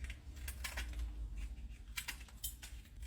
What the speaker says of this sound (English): I just take shears and I just go around and kind of trim them up a little bit